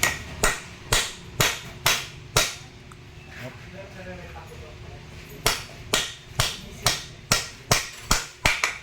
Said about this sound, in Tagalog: Tapos, pupukin to, dahan-dahan.